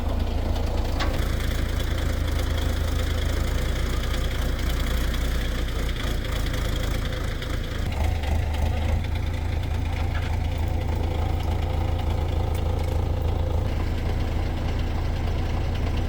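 A tractor engine idles steadily with a low, continuous rumble and faint knocking, running unchanged throughout with no voices.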